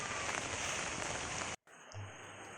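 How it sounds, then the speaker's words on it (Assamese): Steady heavy rain hisses loudly, cuts out for a moment, then returns softer with a low hum underneath. "বৰষুণ দি আছে বহুত"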